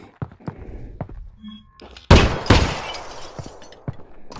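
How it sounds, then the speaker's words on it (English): Car door window glass shattering in Half-Life: Alyx, one sudden loud crash with a brief tinkling tail, preceded by scattered thunks and knocks and followed by a few lighter taps. "for these doors, the glass, as you can see, does stay in the door frame and can break"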